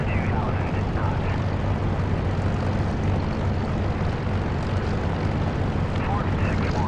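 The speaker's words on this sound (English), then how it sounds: "I can hear the two engines thrumming together." Twin aircraft engines thrumming steadily in the flight simulator DCS, a continuous loud droning hum with a low pulsing throb that holds unchanged throughout, with no pause or other sound breaking through.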